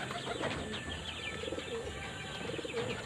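Pigeons in a trapping loft, given fresh water to bathe, coo and chirp steadily throughout, with soft rustling from the birds close by.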